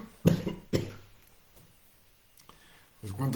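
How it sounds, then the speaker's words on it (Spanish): A man with a sore throat coughs twice in quick succession, harsh close bursts, followed by quieter sounds and then speech resuming. "me dan accesos de tos"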